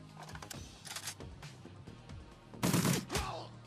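Gunfire from the Shadowrun Returns video game: several sharp shot bursts, the loudest and fullest near the end, over a steady background bed of game sound.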